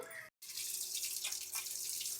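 Steady rushing of borewell water pouring from a pipe, close and continuous, with a brief cut near the start.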